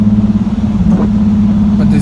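A Nissan 370Z with a muffler delete and fresh new piping gives a steady, deep exhaust drone at idle, loud and close, with a voice talking over it.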